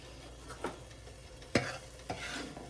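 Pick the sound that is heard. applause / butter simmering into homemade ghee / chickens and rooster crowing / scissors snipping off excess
butter simmering into homemade ghee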